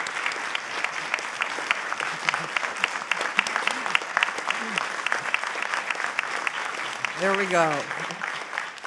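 Audience applause at the opening of an annual medical symposium, steady crowded clapping sustained throughout, with a voice speaking briefly over it and a few short vocal sounds near the end.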